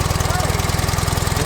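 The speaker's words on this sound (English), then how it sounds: "Motor." A tiny car's small engine runs steadily at close range, giving a fast, even putter with a buzzing low throb that holds constant throughout.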